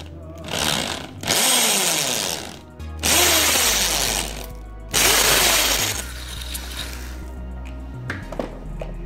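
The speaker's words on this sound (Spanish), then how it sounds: "vamos a fijar, a hacer los taladros para" Power drill boring holes into a wall to mount a roller-blind motor box, loud bursts of drilling, three long runs separated by short pauses, close by with no talk.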